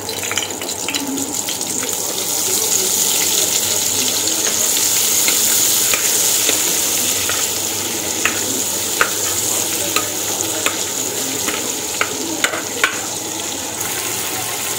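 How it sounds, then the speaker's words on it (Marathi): Butter melting into hot oil in a kadhai, a loud, continuous close-up sizzle with crackling pops and a few sharp ticks as it spreads, heard alone. "मी इथे कढईमध्ये तेल टाकलं आहे आणि मी याच्यामध्ये बटर टाकणार आहे"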